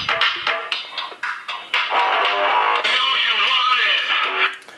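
Music plays through the small built-in loudspeaker of a Sony Xperia T smartphone, a thin, midrange-heavy sound lacking bass, steady and fairly loud throughout with short gaps near the start.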